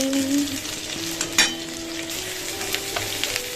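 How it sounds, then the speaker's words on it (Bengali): Potatoes sizzling and frying in a pan with occasional stirring scrapes and clinks, a steady close crackle throughout with no voices. "এখানে দেখো আলু ভাজা হচ্ছে"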